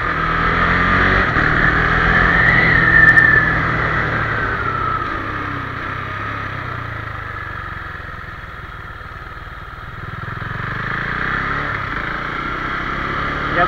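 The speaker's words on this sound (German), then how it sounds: "Generell hinaufschalten kann man bei den meisten Motorrädern ohne Kupplung." A motorcycle accelerates and upshifts without the clutch, its engine note rising and then dropping at each gear change, loud and close with steady wind noise throughout.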